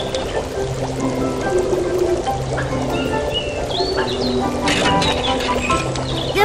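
Water poured onto a fire in a Barbie island princess video game, a steady watery pouring wash running throughout, with game music tones and bird-like chirps layered over it.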